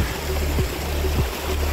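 Glacial meltwater stream rushing off the side of a glacier, a steady broadband wash of flowing water with a low rumbling undertone and faint rhythmic thumps, continuous and fairly close.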